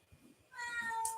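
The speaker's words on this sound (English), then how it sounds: "I'm going to let my cat out." A pet cat gives a single short, faint meow indoors, rising after a brief moment of quiet.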